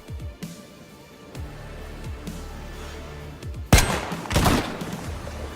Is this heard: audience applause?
no